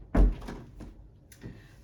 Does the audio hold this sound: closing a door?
yes